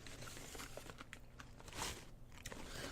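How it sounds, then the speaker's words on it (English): Kettle cooked chips crunch between someone's teeth in several crisp bites and chews, close and fairly quiet, with irregular crackling bursts and no talking. "you can hear me crunching because they're kettle cooked"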